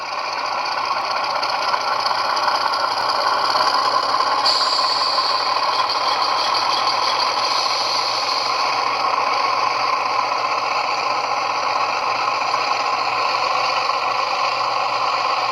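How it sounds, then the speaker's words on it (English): An HO scale model FA-2 diesel locomotive's sound decoder revs the prime mover high and holds a steady, loud, rattling drone with a metallic whine, running continuously without any voices. "now revving right up like he's pulling a heavy load"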